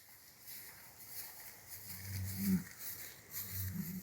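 Bulls in a farm paddock give low, rumbling growls, two short bouts of deep grumbling heard faintly at a distance over steady outdoor background noise.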